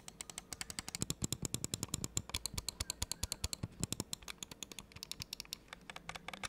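Rapid, even clicks and fine scroll-wheel ticks from a cheap wireless computer mouse, close and crisp, repeating steadily with no voices.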